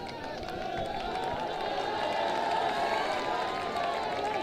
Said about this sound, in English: The audience are cheering for Zakir Hassan, the skipper. They are clapping.